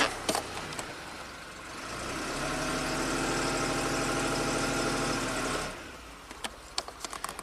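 A 1990 Buick Regal V6 with severe low power strains to rev while in gear, a loud, sustained droning engine note that swells for several seconds then drops back, framed by brief clunks and knocks.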